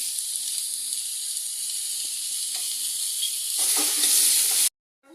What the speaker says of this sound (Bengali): আমার শাকটা ভাজা ভাজা হয়ে গেছে, দেখো। এতে একটু সর্ষের তেল দিয়ে দেবো